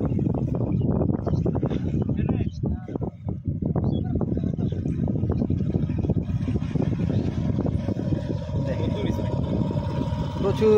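A 7.5 horsepower boat engine runs close by, a loud, steady mechanical chugging with a low throbbing rumble that continues without a break.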